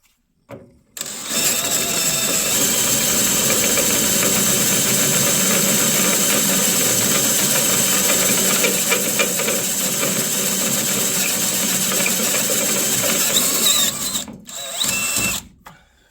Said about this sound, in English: mark and drill the next 4 holes